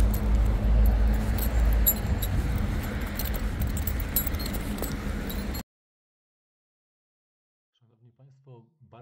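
Keys jangle and clink over the steady rumbling engine of a 2020 VW Tiguan R-Line for several seconds, then everything cuts to near silence with a faint voice at the end.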